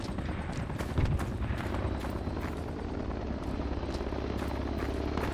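An enemy helicopter lands nearby in the military video game Project Reality, a loud, steady rotor thump and engine roar that holds constant throughout with no talk.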